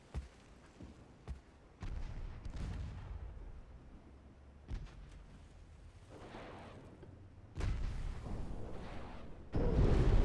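Naval combat in Ultimate Admiral Dreadnoughts, with a torpedo striking a ship: a series of deep booming blasts and rumbles, the loudest impacts coming near the end and overlapping in a heavy, sustained roar.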